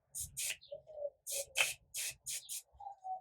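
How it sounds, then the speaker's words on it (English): A makeup setting spray is misted onto a brush in a series of short, sharp hissing bursts, close and fairly quiet, several in a row with small rustles between them. "So I'm going to go into some setting spray"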